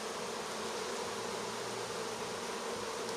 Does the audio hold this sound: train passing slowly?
no